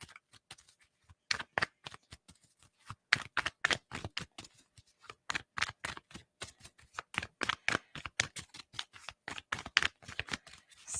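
Rapid, crisp riffling of tarot cards being shuffled, repeated bursts of papery flicks in quick succession, close up and continuous with brief pauses.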